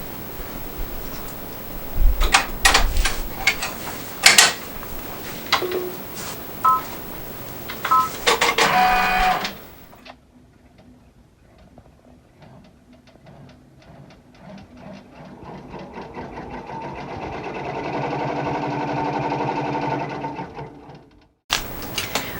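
An embroidery machine stitches a mug rug with a steady mechanical whir that rises over several seconds, preceded by clicks and beeps from its controls, with no talking.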